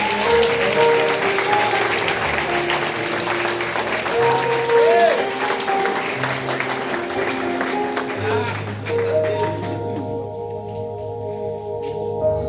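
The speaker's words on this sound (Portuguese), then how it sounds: "Você pode aplaudir o Senhor" A church congregation applauds loudly and continuously during a worship service, a dense wash of clapping from many hands with a sustained musical tone and some voices underneath, tapering near the end as the music carries on.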